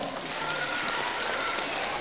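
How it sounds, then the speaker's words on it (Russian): Steady applause from a concert audience for a regional variety dance ensemble, a dense, even patter of many hands sustained throughout with no pauses. "Ваши аплодисменты областному ансамблю эстрадного танца «Калейдоскоп»."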